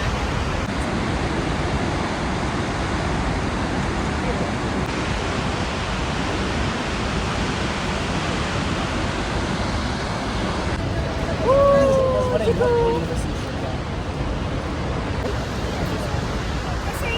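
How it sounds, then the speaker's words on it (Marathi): Snoqualmie Falls roars as a broad, steady wash of rushing water with wind-blown spray. It continues for the whole stretch, with brief voices and a whistle-like tone near the end. "ते धबधब्याचं जे पाणी आहे ते खाली पडून वाऱ्यामुळे उलटं वाहत येत आहे"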